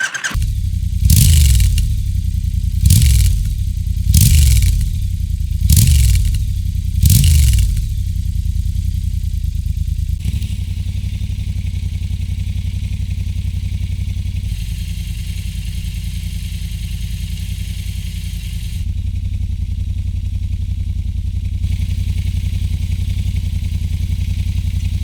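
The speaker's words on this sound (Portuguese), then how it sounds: "Vamos ligar esse motorzão bicilíndrico e ouvir um pouquinho do ronco." A Triumph Scrambler 1200 XE twin-cylinder motorcycle engine is started and blipped through a series of sharp revs, then settles into a steady, loud, rumbling idle close by with no talk.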